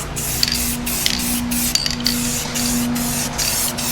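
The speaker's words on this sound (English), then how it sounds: "it's best to use like a flat spray can, not a glossy" Flat primer aerosol can spraying a truck tailgate, a close steady hiss in several bursts separated by brief pauses.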